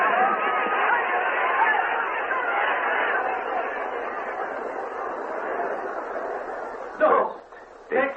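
A dense, agitated crowd roars and clamors continuously in a radio drama as a tumbrel reaches the square, loud and sustained before abruptly cutting off, with a brief voice after.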